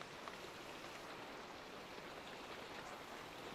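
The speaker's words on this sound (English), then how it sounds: "it's just started raining again" Rain falls steadily in a Minecraft world, a soft, even wash of broadband hiss with no breaks, faint and unchanging, with no speech.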